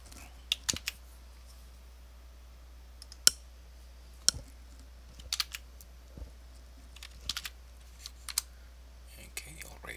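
Sparse keystrokes on a computer keyboard as commands are entered into an Ubuntu terminal, irregular sharp clicks in small bursts with pauses between, fairly close over a low steady hum.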